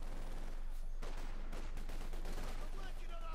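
Machine gun fire in Company of Heroes 2, rapid overlapping bursts and distant battle noise kept at a faint, steady level throughout.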